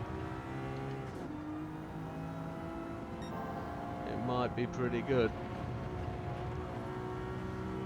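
A Maserati MC20 race car engine in Gran Turismo 7 at the Kyoto circuit drones steadily with rising and falling harmonics, swelling briefly as the throttle changes midway, while someone talks over it.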